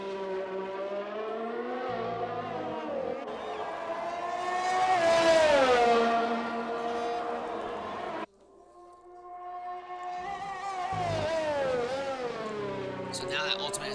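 Race cars lapping in a realistic racing video game on a US Grand Prix circuit, engines droning and shifting pitch through a corner complex, with a brief drop before revving back up under steady commentary.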